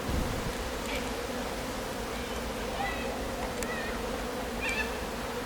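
Honey bees buzz around an open hive during a swarm, a dense continuous drone close at hand with no pauses, while higher individual bee whines drift in and out.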